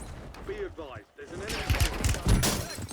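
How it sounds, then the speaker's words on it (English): Gunfire in the shooter game Warzone, several sharp shots and bursts crackling through the second half, fairly loud, mixed with game noise and someone talking over the start. "They're taking shots at me in the sky, so there's a bit of aggression about them."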